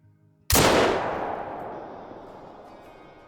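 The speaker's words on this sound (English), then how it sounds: "A walking quartering away shot at about 215 yards out, and we smoked him." A single loud shot from a 9.3 drilling rifle fired at a mule deer in the hunting video game Call of the Wild, a sharp crack followed by a long rolling echo that slowly fades.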